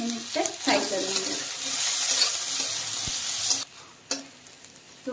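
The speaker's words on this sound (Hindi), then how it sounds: "अभी और 2-3 मिनट तक फ्राई करेंगे।" Potatoes, peas and carrots frying in a kadai give a steady, close sizzle with stirring scrapes and clatter, the sizzle dropping away near the end to a few isolated stirs.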